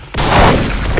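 A grenade explodes in the video game PSF during a team battle, a sudden loud broadband boom that bursts in and rumbles on for about a second.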